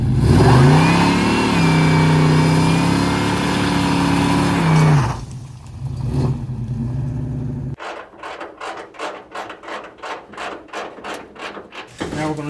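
A car engine, a candidate donor for a Henry J project, revs loudly and steadily for several seconds, then drops off and changes tone as it downshifts, followed by a rhythmic mechanical ticking.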